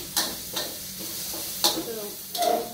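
Spicy minced beef for pad kra pao stir-fried in a pan, with a steady sizzle and three or four sharp scraping stirs of a spatula close by, with no voices.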